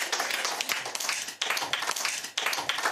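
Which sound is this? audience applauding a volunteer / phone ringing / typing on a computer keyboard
audience applauding a volunteer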